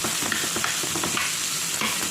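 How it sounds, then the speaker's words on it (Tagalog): Tuna sautés with onion and garlic in a very hot pan, giving a steady, close sizzle broken by scraping stirs and light crackles. "Gisa-gisa natin ang ating tuna."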